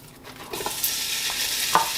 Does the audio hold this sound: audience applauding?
no